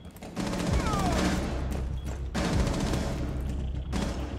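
Video game gunfire, with a pistol fitted with an ACOG sight: a loud, sustained stream of rapid shots with brief breaks, close and dominant throughout.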